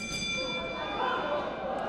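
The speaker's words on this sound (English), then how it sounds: "And Olisa throws a couple of shots after the bell" A ringing bell at a professional boxing match between rounds, sustained metallic tones hanging over a noisy arena crowd for the full stretch, fairly loud and steady.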